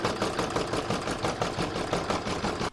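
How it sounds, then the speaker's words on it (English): An embroidery machine stitches a Christmas placemat with a steady, fast mechanical whir and rhythmic needle chatter throughout, loud and close, then cuts off abruptly at the end. "I'm now going to pop that in my machine and stitch round number 2."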